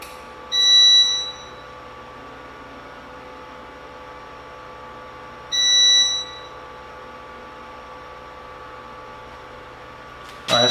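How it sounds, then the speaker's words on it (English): A power inverter's low-voltage alarm sounds in two separated beeping bursts, each about a second long, over a steady electrical hum, with a third starting at the end, as voltage drops to 22 volts. "it's down to 22 volts and it's beeping now, it says low voltage"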